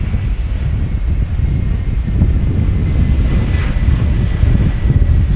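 A landing airliner at Schiphol Airport roars with a broad, rumbling engine noise as its thrust reversers engage in gusty crosswind, heard from a distance through wind buffeting on the microphone.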